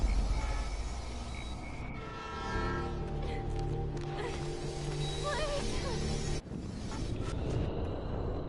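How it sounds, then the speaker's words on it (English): A train bears down in the video game Life is Strange, its horn blaring in long sustained blasts over a heavy rumble of wheels and rails, loud and close, with a brief drop near the end before the noise surges back. "The train's coming!"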